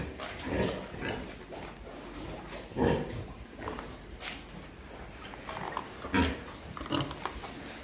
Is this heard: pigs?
yes